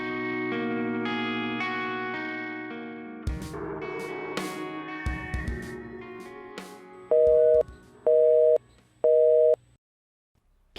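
A mobile phone call failing to connect to a switched-off phone: an electronic tone sequence and a short recorded-message-like passage, then three loud, evenly spaced beeps with silence between.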